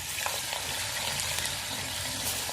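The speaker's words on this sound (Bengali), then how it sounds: "মাছ সব একেবারে একসঙ্গে ভেজে নেব" Small tilapia fish fry in hot oil, giving a loud, dense, continuous sizzle with crackling spatter throughout and no voices.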